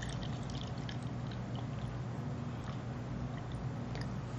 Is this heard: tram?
no